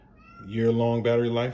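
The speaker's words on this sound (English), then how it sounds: "That's my cat" A pet cat gives a drawn-out, tonal meow that rises in over half a second, dips briefly, then carries on at close range, while a person's voice speaks beneath it.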